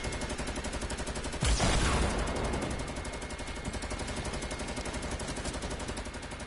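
Rapid automatic gunfire from a PS4 multiplayer shooter, loud and steady throughout with a heavier burst near the start, with no talking.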